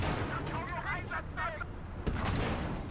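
A Soviet 45mm M-37 anti-tank gun from 1937 fires once in Gates of Hell: Ostfront, a single sharp, loud report with a short tail, following a brief stretch where a voice can be heard.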